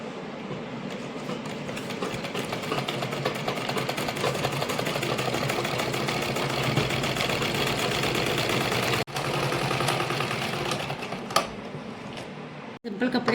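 Sewing machine stitching kameez fabric, a steady continuous motor whir with needle rattle running nearly the whole time, close and fairly loud, with brief pauses near the end.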